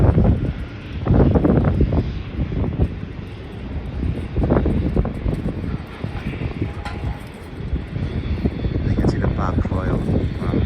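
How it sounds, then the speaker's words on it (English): A passenger plane arriving from Sydney lands at Melbourne Airport, heard as a steady, distant low engine roar across the whole stretch with gusty wind buffeting the microphone. "the flight from Sydney just landing now"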